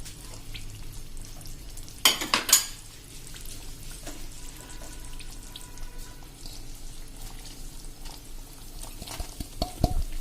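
Crumbled bajra roti is stirred into melted ghee and jaggery in a pan, giving a soft, steady scraping and gentle sizzle with a couple of sharper clinks of the spoon against the pan.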